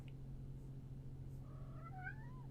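A single cat meow rises and falls over quiet background hum, fairly close and soft.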